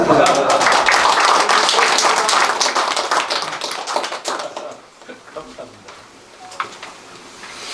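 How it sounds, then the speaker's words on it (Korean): An audience at a village gathering with a city mayor in rural Korea claps for guests: dense, steady clapping for about five seconds, then thinning into scattered claps as voices carry on. "대교리에서 오신 분들한테 박수 한번 쳐주세요."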